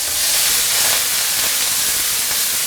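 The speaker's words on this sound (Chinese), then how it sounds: "我们要煎一下这个蛋" Boiled quail eggs frying in a shallow layer of oil over low heat, a dense continuous sizzling hiss that stays even and close throughout.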